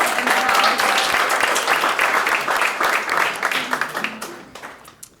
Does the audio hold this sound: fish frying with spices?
no